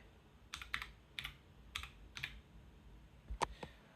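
A password goes in on a computer keyboard as a short run of soft, uneven key clicks, a few quick pairs and one louder tap near the end, close and quiet in a still room.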